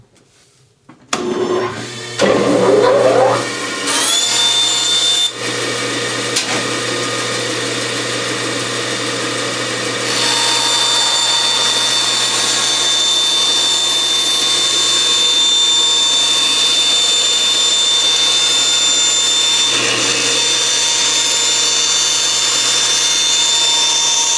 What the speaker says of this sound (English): Here we go to the bandsaw.